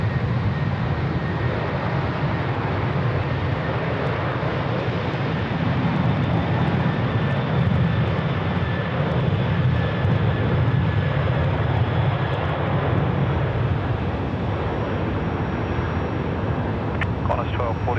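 Qantas jet airliner landing on runway 16 right in Sydney, heard as a steady, broad engine roar that holds for the whole stretch, with a faint high whine above it.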